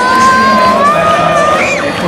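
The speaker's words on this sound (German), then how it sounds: "Und Kind im Hintergrund schreit." Someone shouts high-pitched, sustained cries above the loud roar of a football stadium crowd at a Sturm Graz versus SV Ried home match, the voice wavering and sliding over the dense cheering.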